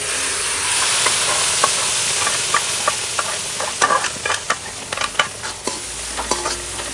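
Hot tempering sizzles and hisses as it is stirred into dal on the stove, a steady frying wash broken by sharp spoon clatters and scrapes toward the end, close and fairly loud.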